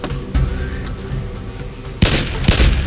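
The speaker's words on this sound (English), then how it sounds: "Are you shooting? Yeah, no, they're shooting." Gunfire in the video game DayZ: a few separate booming shots land near the start and two louder, sharper bangs come close together toward the end, with no talk over them.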